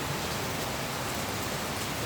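Heavy rain falling, a dense, steady broadband hiss of downpour that stays even and loud throughout, with no voices or other distinct sounds.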